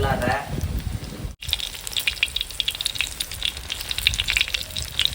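A whole fish frying in hot oil, a dense steady crackling sizzle with bubbling pops throughout, close and fairly loud, briefly overlapped by a voice at the start.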